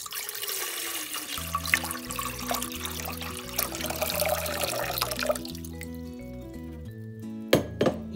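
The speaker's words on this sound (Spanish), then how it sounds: "Lo siguiente que haremos es poner el resto del agua en una olla." Water poured into a cooking pot while making a Christmas hibiscus atole, a steady splashing pour with a few clinks of the pot, followed by tonal musical notes near the end.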